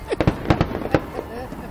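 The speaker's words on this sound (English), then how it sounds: "I'm watching the fireworks now" Fireworks finale exploding outdoors, a rapid cluster of sharp, booming bursts and crackles in quick succession, with people's voices faintly mixed in.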